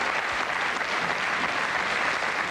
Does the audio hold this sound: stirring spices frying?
no